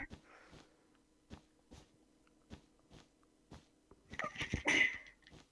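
A sharp sneeze bursts out near the end after a series of quiet clicks and taps during a game of Minecraft Bedwars.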